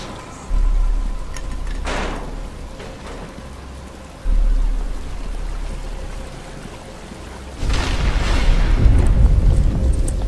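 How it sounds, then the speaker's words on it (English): In Batman: Arkham Asylum, steady rain hisses down with a low rumbling bed, swelling louder near the end, and no voices are heard over it. "But it's starting to rain."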